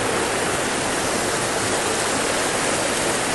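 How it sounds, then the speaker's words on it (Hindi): A big waterfall in dense hill forest, a loud, steady broadband roar of rushing water with no pauses or voices. "ये जो आ रहा है वाटरफॉल, ये बिल्कुल अलग है, देख लीजिए।"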